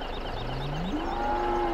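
A cow in the video game Farming Simulator 17 gives one drawn-out moo that starts low and climbs in pitch, heard close over a steady background hum.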